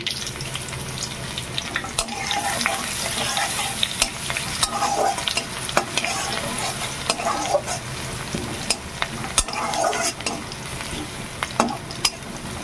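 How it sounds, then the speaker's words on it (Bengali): Crushed garlic and dried red chilies fry in a pan and are stirred nonstop: a continuous close sizzle with repeated scraping and clattering from the utensil, fairly loud and without talk. "এবার দিয়ে দেবো থেতো করে রাখা রসুন,"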